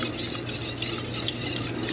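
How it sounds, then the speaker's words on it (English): Eggs being whisked for a French toast bake, yolks broken up with a fast, steady, wet rhythmic beating in a bowl, close and continuous for a couple of seconds. "I'm just going to bust up these yolks really good"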